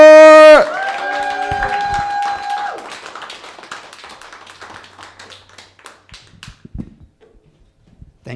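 An audience at a stand-up comedy open mic breaks into scattered clapping that thins into sparse, fading claps after a loud musical chord at the start, with a voice speaking briefly.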